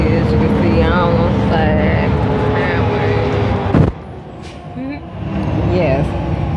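Steady loud rumble of a moving bus heard from inside the cabin, a continuous low engine and road roar that briefly dips near the middle before resuming, with a person talking over it throughout.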